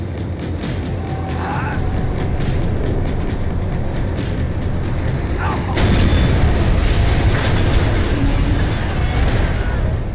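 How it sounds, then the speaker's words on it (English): A tram in the Max Payne 3 video game rumbles and clatters as it slows, with heavy mechanical noise and scattered knocks, then a louder, harsher surge of grinding and rattling near the end. "The tram was slowing down"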